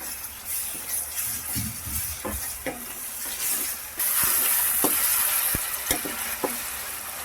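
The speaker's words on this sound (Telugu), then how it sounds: "ఇప్పుడు దీంట్లో అల్లం వెల్లుల్లి పేస్ట్ని యాడ్ చేసేసుకుంటున్నాను" Prawns frying in a pan with ginger garlic paste for a gonguura prawn curry, stirred with a utensil that clinks and scrapes now and then over a steady close sizzle.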